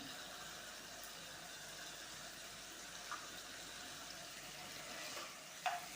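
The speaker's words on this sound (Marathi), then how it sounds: "तर आता आपण मगाशी थोडे टोमॅटो ठेवून घेतलेले होते ते आता यामध्ये परतून घेणार आहोत" Tomatoes sauté in oil in a pan for pav bhaji, giving a quiet, steady sizzle with faint stirring scrapes and a small clink near the end.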